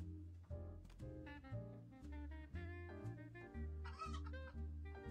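Chickens cluck in the video game Hotel Renovator, a steady run of loud, close clucks repeating throughout with game background sound.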